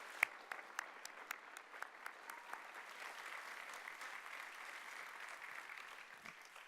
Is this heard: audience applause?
yes